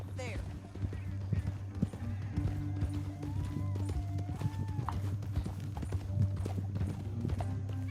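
Horse hooves clop at a steady gallop in Red Dead Redemption 2, a rhythmic run of close hoofbeats under a low ambient hum, with a brief whinny and voices talking over it.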